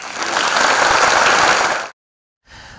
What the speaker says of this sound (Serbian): gromoglasan aplauz na kraju njegovog